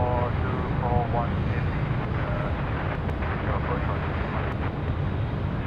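A Dash 8 turboprop lands on runway 16 right at Sydney Airport at night, a steady, fairly loud roar of engine and airflow that holds throughout, with faint voices underneath.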